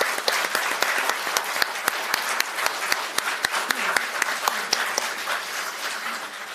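Steady applause from an audience gathered for a Democratic Party floor-leader candidates' debate in South Korea, dense clapping filling the room evenly for several seconds with no voices on top.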